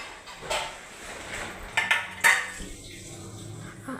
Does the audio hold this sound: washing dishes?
yes